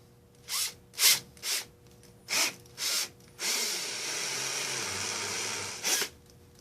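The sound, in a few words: drilling a hole with a step-up drill bit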